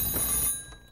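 A telephone rings briefly, a bright electronic ring heard once at moderate volume, fading out within about a second.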